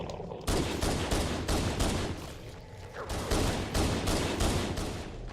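Shotgun blasts fire in a video game, loud and close, in rapid repeated bursts that pause briefly before resuming.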